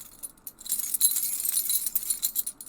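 Keys jingle and jangle in quick, irregular shakes, bright metallic clinks close by, starting faint and growing busier, with no talking.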